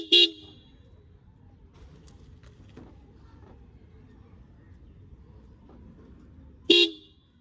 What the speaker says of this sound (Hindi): हॉर्न मारते हैं गार्ड आएंगे।